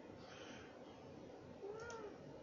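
A house cat gives a single faint, drawn-out meow late in the moment, heard at a distance over a steady background hiss.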